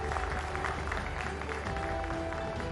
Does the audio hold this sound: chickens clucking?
no